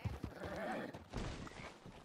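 A horse neighs while hooves clip-clop in the Red Dead Redemption 2 video game, a fairly faint whinny over steady background game ambience.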